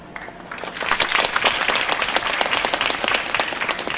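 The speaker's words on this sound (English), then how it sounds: "give our distinguished panelists a warm round of encouragement with your clapping" Audience applause for panelists at a university campus talk, a dense, steady clapping that swells after a quiet start and fills the whole clip.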